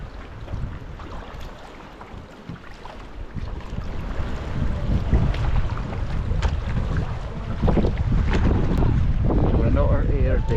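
Strong wind buffets the microphone while sea kayaking in Otter Ayre Bay, Muckle Roe, Shetland, a steady roar that grows louder, with paddle splashes and water noise and a voice speaking briefly.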